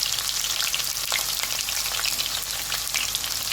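Onions frying in a wok in hot oil and ghee, a bright steady sizzle with crackling pops, close and continuous without talk.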